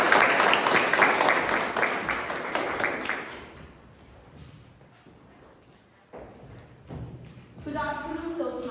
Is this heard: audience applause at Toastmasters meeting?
yes